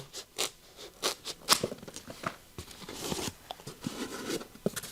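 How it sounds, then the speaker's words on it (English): Foam pieces for a rugged lithium battery case being cut with scissors, giving irregular close snips, crunches and scratchy rustles that fill the stretch with no talk. "I'm going to cut 2 pieces right now"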